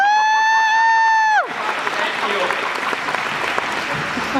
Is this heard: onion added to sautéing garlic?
no